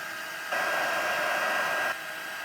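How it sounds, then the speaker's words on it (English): A heat embossing tool blows hot air onto a stamped card, a steady, close hiss-like whir that switches on, runs for about a second and a half, then cuts off. "I thought it would look better just heat embossed on the black flat."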